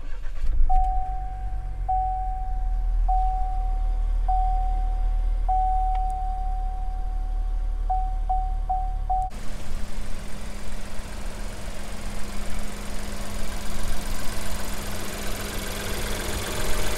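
A Chevrolet Trailblazer with a 1.2 turbo engine starts partway through after a steady warning chime, then settles into a loud, steady close idle that carries on to the end.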